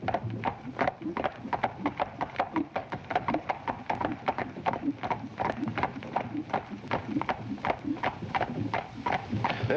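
Several horses' hooves clip-clop steadily on a London street, a brisk, continuous rhythm of close, distinct hoof strikes.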